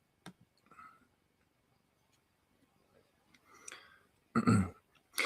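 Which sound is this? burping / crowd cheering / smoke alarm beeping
burping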